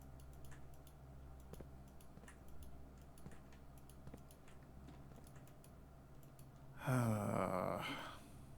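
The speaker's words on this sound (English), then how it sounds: "I just had, like, a sneeze sneak up on me." A single sneeze bursts out after several seconds of quiet, faint ticking and clicks, loud and close for about a second before fading, with no other talk.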